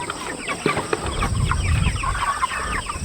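Several Cornish Cross broiler chickens cluck and chatter in short, overlapping bursts at close range, with a low rumble and faint background hum.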